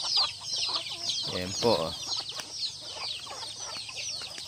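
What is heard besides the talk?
chickens and chicks clucking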